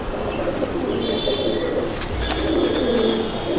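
Old-breed Chapka Giribaz pigeons coo softly in a village loft, several low murmuring calls overlapping with faint chirps and a light background hiss.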